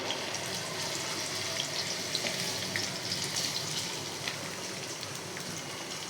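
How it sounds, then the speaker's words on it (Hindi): A large onion frying in about half a cup of hot oil in a home kitchen, giving a steady, moderate crackling sizzle with dense high hiss that continues evenly throughout and has no voices over it. "तेल गरम करने पे हम इसमें डाल देंगे और इसे फ्राई करना है।"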